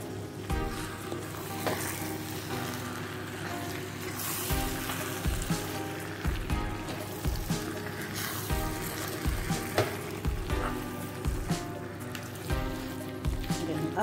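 Spinach is stirred into egusi soup in a pot over a steady low sizzle and bubbling, with soft repeated stirring knocks and faint background hum.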